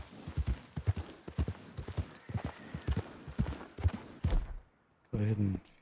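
Horse hooves clip-clop in a steady rhythm through a game-world hunt in Red Dead Redemption 2, loud and close, with a short louder burst near the end that may be a snort or whinny.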